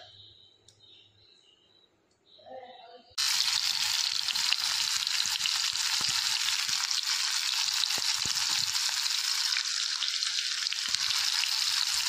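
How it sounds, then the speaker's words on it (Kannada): Masala-coated fish drops into a hot pan in a home kitchen, setting off a sudden loud, steady sizzle that continues without a break. A few quiet clicks come before it. "ಒಂದು ಮೀನು ತುಲೆ ಇತ್ತೆ ಫ್ರೈ ಮಲ್ತೊಂದುಲ್ಲೆ"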